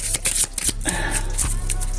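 Playing cards being shuffled up close, a rapid crisp riffling and flicking with sharp snaps, continuous throughout.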